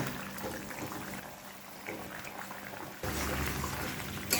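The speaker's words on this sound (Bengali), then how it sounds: "হাই ফ্লেমে ঝোলটা আমি দু মিনিট ফুটিয়ে নিয়েছি এবার ভেজে রাখা মাছটা দিয়ে দেব" Thin curry broth bubbling on a high flame, with fried stinging catfish then added: a steady, soft simmering hiss that grows louder and fuller partway through. Quiet and close, with no clear speech.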